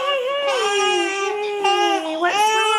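A sick baby cries at home, a loud, wavering wail that rises and falls through about three seconds with brief catches between sobs, heard close up with nothing else over it.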